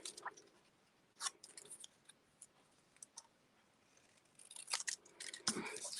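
Scissors snip through a paper strip for a handmade card in a few quiet, scattered cuts, with faint clicks and rustling in between, ending in a louder burst of paper handling.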